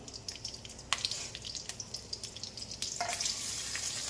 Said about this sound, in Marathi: आता आपण हिरवी मिरची उभी चिरून घेतली होती ती टाकूया